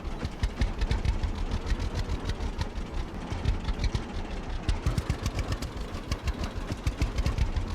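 Video game audio: a small lawn tractor engine runs continuously with a rapid, rough chugging rhythm, close and steady while mowing.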